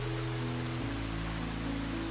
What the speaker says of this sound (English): I know the rain is coming, and I welcome it